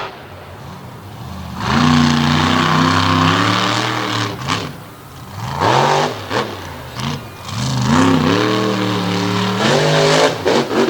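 The Toxic monster truck's engine roars and revs hard through a freestyle run at an Abbottstown, Pennsylvania motorsports event, loud and close, surging repeatedly with throttle blips and brief drops between pulls.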